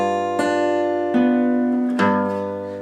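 Acoustic guitar plays the opening of a Hytale melody, three picked notes over sustained ringing strings, close and unaccompanied.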